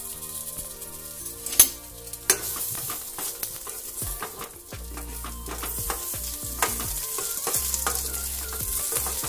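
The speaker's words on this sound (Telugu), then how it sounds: "ఆనియన్స్, అలాగే వెల్లుల్లి రెబ్బలు, కరివేపాకు వేసుకొని కొద్దిసేపు వేయించుకోవాలి" Onions, garlic cloves and curry leaves fry in a pan with a steady close sizzle, broken by frequent scraping stirs and a few sharp utensil knocks against the pan.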